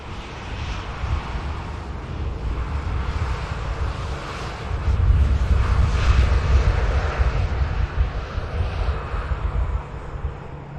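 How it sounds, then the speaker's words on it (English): A Ryanair Boeing 737 Max 8200 departs Manchester Airport for Paris Beauvais, its loud, continuous jet engine roar building to a peak midway and holding with deep rumble and wind buffeting. "There is the Ryanair Max 8200 off to Paris Beauvais."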